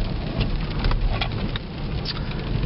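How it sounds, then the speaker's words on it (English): Rain falling steadily outdoors on a nasty, wet day, a dense continuous patter close around, with no voices. "I was not lying when I said it's nasty outside and raining"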